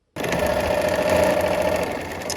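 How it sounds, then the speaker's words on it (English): A sewing machine stitches a seam in fabric with a steady, fast, close whirring drone that starts abruptly and runs unbroken for about two seconds. "we're gonna sew to that dot"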